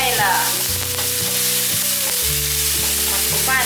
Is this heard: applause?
no